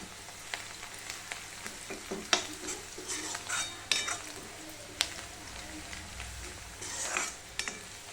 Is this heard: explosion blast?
no